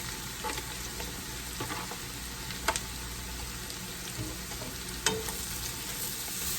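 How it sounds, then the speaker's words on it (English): Mushrooms frying over medium heat in a pan on the stove, a steady close sizzle with a few sharp clicks and scrapes of stirring, no voices. "And now I'm just going to add my mushrooms"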